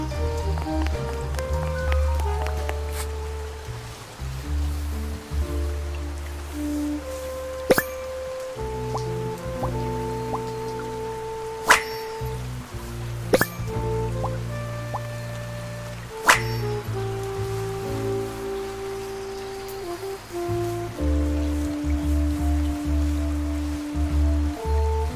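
Rain falling in the video game Duck Detective: The Secret Salami, steady patter with occasional sharp drips and clicks over a low rumbling ambience and shifting soft tones, no talking.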